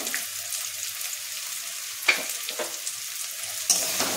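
Spice masala with Kashmiri chili and coriander powders sizzling and frying in a pan for egg tadka dal, a steady hiss with a few stirring scrapes, close by and with no voices.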